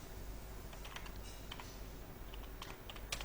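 Typing on a computer keyboard while writing HTML code, a sparse run of light, faint key clicks over a low steady background hum.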